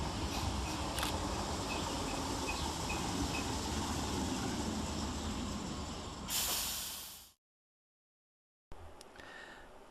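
A Southern Railway class 313 electric unit, 313212, pulls into Angmering station with a steady rolling rumble and hiss that swells to a loud burst near the end, then cuts off briefly before the station ambience returns.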